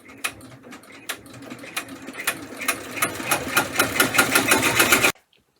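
An embroidery machine stitching a design, rapid rhythmic mechanical clicking that builds to a steady close pulse and then stops abruptly near the end.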